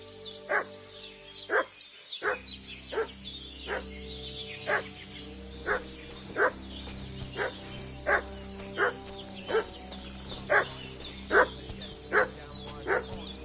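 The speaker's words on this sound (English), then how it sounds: "What's that dog making such a fuss about?" In the medieval video game Kingdom Come: Deliverance 2, a dog barks repeatedly in an even, insistent rhythm at moderate distance, roughly a bark every second, over a low ambient hum.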